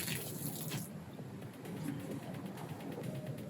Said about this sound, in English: water your seeds when the soil is dry to keep it moist.